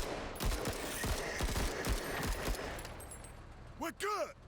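Bursts of gunfire from the turn-based tactical RPG MENACE, several sharp rounds in an uneven rhythm over the first couple of seconds, then a short sweeping warble near the end.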